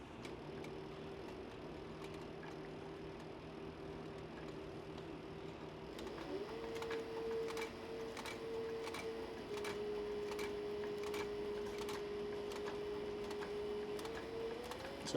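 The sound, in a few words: sewing machine sewing a seam on a bag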